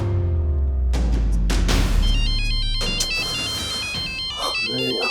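A phone ringtone plays loudly and close, a bright repeating melodic tone pattern over a deep bass line, with no talking.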